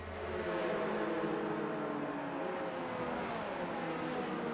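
Race cars from the F1 2019 video game, circling back to the start line at the Brazilian GP, make a steady, continuous engine drone with shifting pitch, moderately distant and alone.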